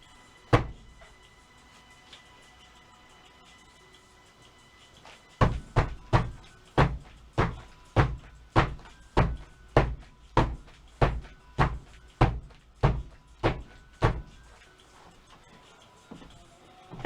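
Cold process soap mold banged down repeatedly on a work surface while making a camouflage-patterned soap: one loud knock, a pause, then a steady run of about fifteen sharp, evenly spaced thuds, close and loud, with no talking.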